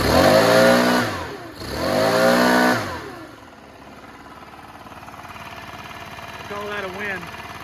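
A Stihl BR600 backpack blower engine that has just been tuned revs hard twice, then drops back to a steady idle. It is close and loud, with a brief voice near the end.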